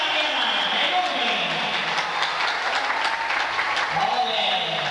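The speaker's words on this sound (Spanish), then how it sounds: "Venga, aplauso a Silvia I" A crowd at a traditional carnival applauds its carnival queen, with dense, steady clapping filling the space throughout, loud and continuous with no pauses.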